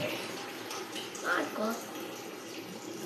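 Faint splashing and sloshing of water while something is washed and shaken, a soft watery wash close by with a couple of brief louder splashes.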